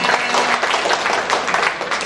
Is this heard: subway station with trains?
no